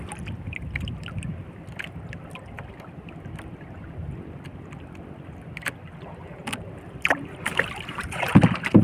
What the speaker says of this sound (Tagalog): Malakas ang hangin, mahirap pigilan.